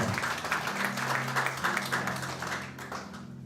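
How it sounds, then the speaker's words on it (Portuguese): A church congregation gives a round of applause during a sermon, fairly soft, rhythmic clapping from a group, with a steady low tone sounding underneath and the claps fading toward the end. "dê uma salva de palmas ao Senhor"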